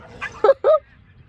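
A street dog yips and barks during a fight, two or three short harsh barks up close, brief and loud against faint background noise.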